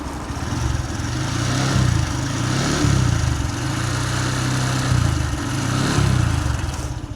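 A Honda Grom MSX 125 motorcycle engine revs steadily toward about 4,000 RPM, a close, continuous mid-pitched drone that swells and dips in repeated surges throughout, with no talk.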